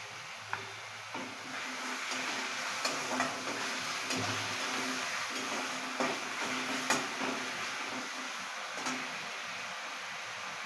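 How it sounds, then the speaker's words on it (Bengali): Cumin and coriander paste fries in a pan with a steady, close sizzle, broken by occasional light clicks and scrapes of stirring. "এরপরে মা জিরে ধনে পেস্ট অ্যাড করছে।"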